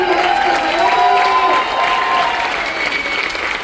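Warm, sustained applause and some cheering from an audience at a patriotic veterans ceremony aboard a cruise ship, honoring Navy veterans, loud and close with a faint voice beneath.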